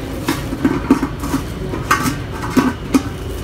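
A metal lid clanks onto a pot of adobong kangkong, several short metallic clinks and knocks in an irregular rhythm, close and fairly loud with a faint simmer underneath.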